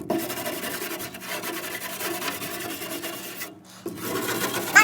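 An old 1968 Thinline guitar is scrubbed clean, a continuous close rubbing and scouring sound with a brief pause near the end before it resumes.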